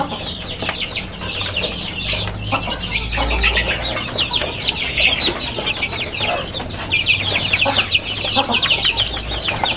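Desi chickens and their farm-hatched chicks cluck and peep busily on a poultry farm, a dense, continuous chorus of high chirps and clucks close by with no talk.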